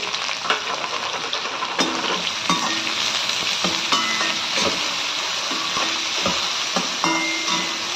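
Finely chopped onions sizzling in hot oil in a pan for tomato khichdi, a dense continuous frying hiss close up, punctuated by regular clinks and scrapes of a spatula stirring, with no one speaking.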